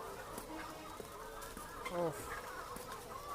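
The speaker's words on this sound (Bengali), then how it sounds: "দেখেন মুরগিগুলো কত সুন্দরভাবে খাইতেছে" Laying hens cluck softly while feeding, with one brief clear cackle and faint background buzzing. A short spoken sound is heard near the end.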